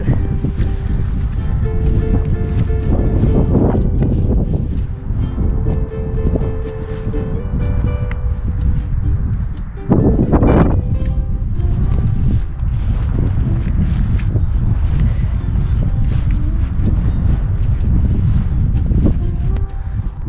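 Strong wind on a cold, snowy mountainside near homes buffets the microphone with a loud, continuous roar, rising in a sharper gust midway.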